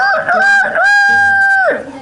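A voice imitates a rooster crowing, rendered as one loud, close, drawn-out cock-a-doodle-doo call that rises and falls, heard alone.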